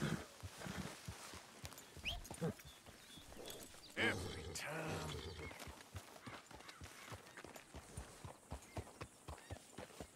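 A horse clip-clops along in the video game Red Dead Redemption 2, hoofbeats tapping in a steady trotting rhythm at close range, mixed with game sounds and some talking over it.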